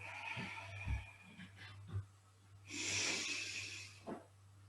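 A long, slow exhalation breathed out close to the mic, following a few softer breaths, with a low steady hum underneath.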